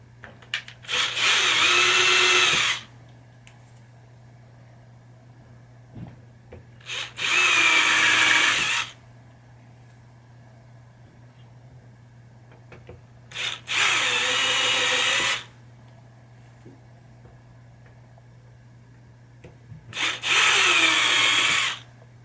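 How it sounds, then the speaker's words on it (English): A small power drill bit bores holes into a 1980 Williams Firepower pinball playfield, in four separate bursts of a few seconds each with quiet pauses between, close and fairly loud over a low steady hum. "Same thing, a little drill bit. We're going to make little holes"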